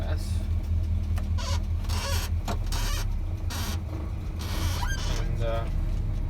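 A heavily loaded truck idles uphill in low gear with no throttle, a loud steady low engine rumble throughout, mixed with intermittent squeaks and rattles close by.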